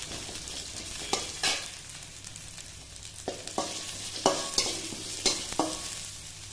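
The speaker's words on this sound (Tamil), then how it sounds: "கடலைப்பருப்பு சிவக்க ஆரம்பிச்சிட்டு கொஞ்சம் புகை வர மாதிரி இருந்ததுன்னா" Chana dal frying in a pan of oil, turning reddish as it cooks, with a soft steady sizzle and a few sharp clinks and scrapes of stirring scattered throughout; no one speaks.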